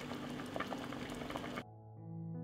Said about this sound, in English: from the moment the water boils, I will cook for 15 minutes until the plum softens.